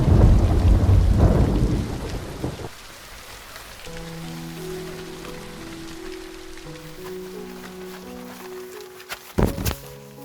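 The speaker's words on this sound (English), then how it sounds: "it started raining again, and it rained all night" Heavy rain pours at night with a deep rumble of thunder at a mountain campsite, then eases to a softer steady patter, broken near the end by a sudden sharp burst.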